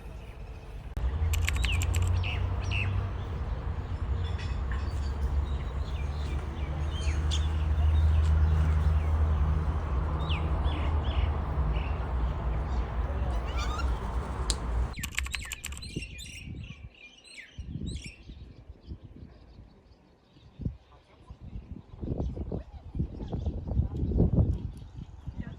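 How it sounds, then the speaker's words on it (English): Birds chirp and sing outdoors amid a steady low rumble of background noise, with bright tweets scattered throughout; after the rumble drops away, the calls stand out more clearly and sparsely against a quieter backdrop. "around us there are lots of birds, and they sing really very beautifully"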